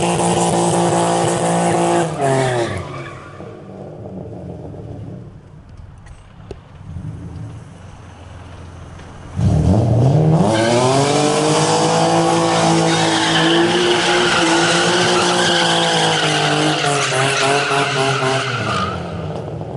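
A BMW E36 328ic drifts with its rear tires spinning, engine revving hard under long rising tire squeals that fade into a lull, then return loud and sustained.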